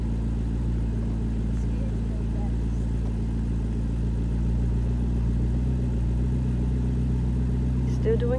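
A Ferrari F430 moves slowly around a track on a practice lap, its engine a steady low drone with mild swells in pitch, continuous throughout and heard from inside alongside quiet background voice.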